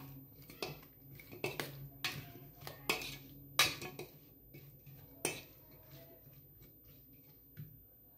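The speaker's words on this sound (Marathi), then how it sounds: "आणि हे मिक्स करून घ्यायचं आहे" Ground masala is stirred into lemon pickle in a bowl for an oil-free pickle, with a spoon clinking and scraping against the bowl in a quick, irregular series of close, sharp taps that thin out toward the end.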